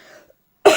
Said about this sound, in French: Désolée hein, si je tousse encore un petit peu.